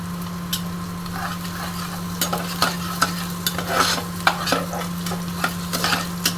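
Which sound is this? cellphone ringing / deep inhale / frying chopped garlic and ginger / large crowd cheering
frying chopped garlic and ginger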